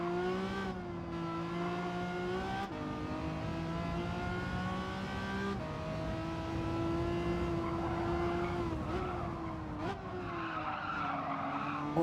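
Tyres skid and scrub as a race car loses traction in Gran Turismo 7 online lobby racing, with a steady engine drone and shifting revs running loud throughout.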